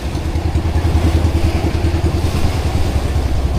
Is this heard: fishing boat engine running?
yes